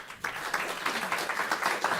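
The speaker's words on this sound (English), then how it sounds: "Give her a round of applause" An audience at a panel discussion on food security applauds a panelist, with steady, dense clapping that carries on throughout at moderate loudness.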